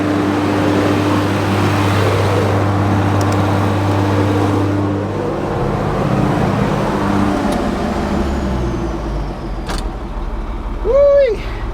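An old turbocharged truck engine idles with a steady low drone on a muddy farm yard, then winds down and shuts off near the end, leaving quieter background.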